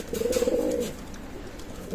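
A Pakistani Teddy pigeon from a running pair coos in a close, soft murmuring burst that fades after about a second into low background rustle.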